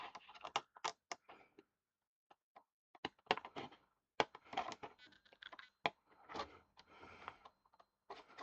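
Scissors snip and crunch through thick acetate sheet in irregular clusters of sharp clicks, close and quiet, with brief pauses between cuts.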